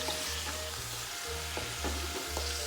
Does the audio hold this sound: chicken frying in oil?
yes